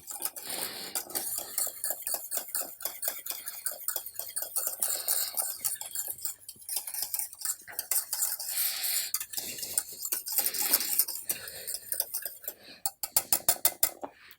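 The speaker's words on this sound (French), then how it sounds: "Donc pour éviter ça, on va mettre un petit coup de mixeur." Hand blender mixing chocolate bavarois cream made with pure cocoa paste, a close, rapid buzzing and clattering whir that pulses on and off for many seconds, ending in a few sharp bursts.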